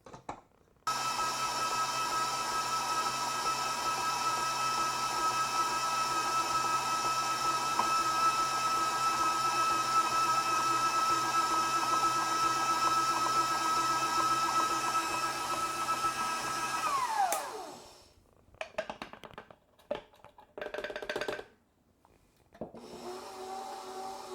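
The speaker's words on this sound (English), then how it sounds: "I'm going to switch over to my dough hook and use my mixer" A stand mixer with a dough hook kneads blueberry quark bun dough, a loud steady motor whine with a constant tone that winds down and stops, followed by bumps and a brief restart.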